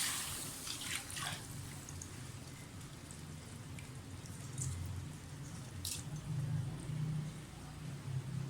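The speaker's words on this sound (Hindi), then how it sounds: "और अब मेजरमेंट के साथ में पानी डाल दूँगी।" Water splashes and trickles steadily into a cooking pot of rice at close range, with a soft rushing flow and a few clinks.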